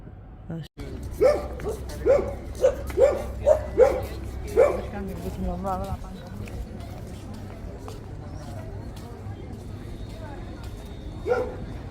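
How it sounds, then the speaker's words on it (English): Street dogs, a mother and her pup, bark outdoors in a run of sharp, repeated barks over roughly four seconds, followed by a single later bark, over steady low background noise. "I would say those are probably street dogs."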